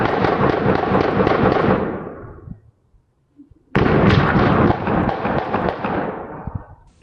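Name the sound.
gunshots fired from a passing car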